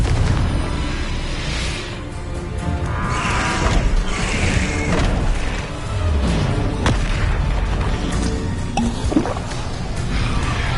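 Deep booming blasts and crashing debris from the Confringo fire spell in the Hogwarts Legacy game, loud and dense with whooshes and rumbling between impacts throughout.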